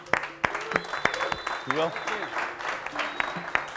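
Audience applause and scattered clapping at a competition finals, with someone talking over it throughout and sharp individual claps standing out.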